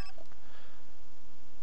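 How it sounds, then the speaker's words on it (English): Mobile phone ringing in The Sims 4, a short bright electronic ringtone chirp that stands out clearly above a steady game background, with no talk. "Whose phone is ringing?"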